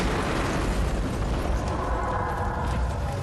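A truck bomb explosion gives a dense, sustained rumbling roar of blast and debris that stays loud and broad from start to finish with no voices over it.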